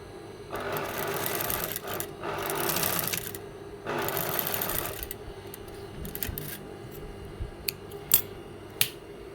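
Stitching a shirt sleeve on a sewing machine produces two bursts of close, rapid mechanical whirring, followed by a few sharp clicks and taps as the machine stops.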